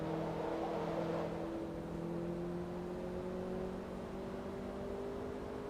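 Car engine in the racing game Forza Motorsport 2 at Laguna Seca, a steady droning engine note with sustained tonal harmonics that rise slightly, quiet and continuous with no talk.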